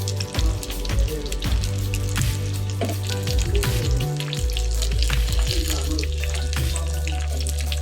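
Loud, dense sizzling and spattering of a tempering with curry leaves frying in hot oil, continuous throughout with sharp crackles and pops.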